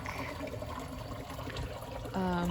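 Creek water flows outdoors near woods and a house, a steady broadband rush that fills the whole stretch, with a voice starting to speak near the end.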